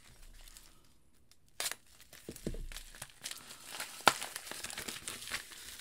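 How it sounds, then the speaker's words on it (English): Package being cut open, with crinkling plastic packaging and sharp tearing snaps in quiet, close, irregular bursts, no talk. "I can get a little more aggressive on cutting this open"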